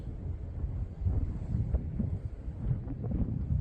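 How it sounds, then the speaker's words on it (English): Gusty southwesterly wind of around force 4–5 buffets the microphone on coastal rocks during an ebb tide, a low rumbling roar that rises and falls over a few seconds with no one speaking. "It's blowing a 4-5, I think it is, southwesterly."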